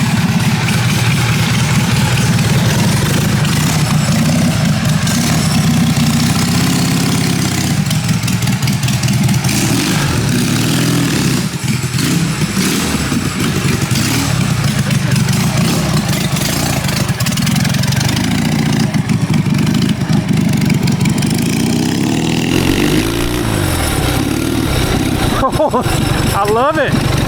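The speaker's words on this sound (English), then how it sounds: "Real quick, let's hear that idle." Twin-cylinder four-speed mini bike engine idling through a custom stainless steel exhaust, a steady loud close rumble throughout with slight revs toward the end.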